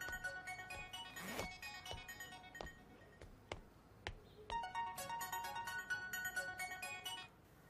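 A phone ringtone plays a bright electronic melody, faint and steady, with a few soft clicks around it.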